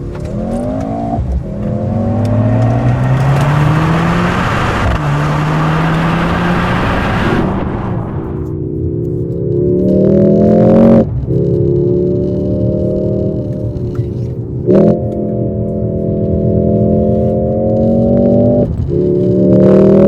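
A 2025 Mercedes-AMG GLC43 Coupe accelerates hard with its sport exhaust open and dynamic mode engaged, a loud close engine note climbing through several gears with sharp breaks at each upshift.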